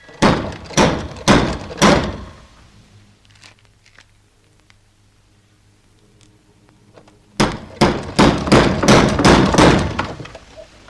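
Rapid series of loud wooden door-knocker knocks in two bursts, separated by several seconds of near silence with a low hum, in a scene from the Hungarian comedy A tizedes meg a többiek.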